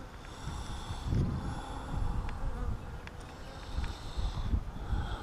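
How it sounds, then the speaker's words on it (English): A few bees buzz faintly around a mating nuc hive, a thin steady drone with some soft knocks and rustles nearby. "well, there are a few bees"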